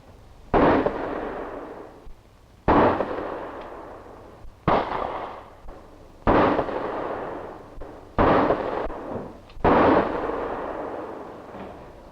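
Six pistol shots at target practice, loud sharp reports spaced about two seconds apart, each ringing out into a short echoing tail, with no talk between them.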